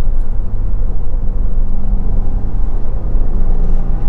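Steady, loud low engine drone and road rumble from a 2022 Subaru WRX with a turbocharged engine and manual gearbox, driving along at a constant pace with no talk.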